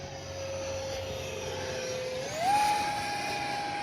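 An RC model T-33 jet with a 50 mm ducted fan flying overhead, a steady whining whine that rises in pitch partway through as the throttle increases, heard alone without talk.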